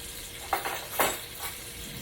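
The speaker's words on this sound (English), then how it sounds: "I'm going to go ahead and flip my sausages." Sausages and potatoes fry in a cast iron skillet over a raised flame, a continuous sizzle broken by a few short scraping bursts as the food is moved, close and moderately loud with no talking.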